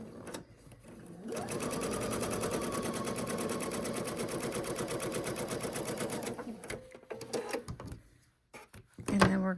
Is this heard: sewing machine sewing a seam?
yes